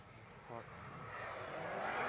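The WARR Nixus EX-4C rocket launches at the EuRoC 2025 competition with a distant broadband roar that swells steadily louder over about two seconds, while excited voices sound over it.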